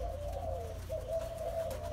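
Malaysian spotted dove cooing steadily up close, a low droning coo running through the whole moment with no talk, at a bird farm where the pair is nesting.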